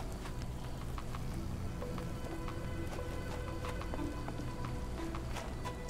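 Rain falls in a Sherlock Holmes The Awakened game scene, a soft, steady patter of drops with faint scattered ticks, quiet and unbroken, under a low ambient hum.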